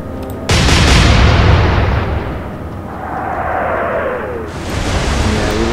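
Heavy warship guns fire in the naval strategy game Atlantic Fleet, a huge broadband boom erupting at once and rolling on for seconds, followed by a whistling shell flight and a second loud burst near the end.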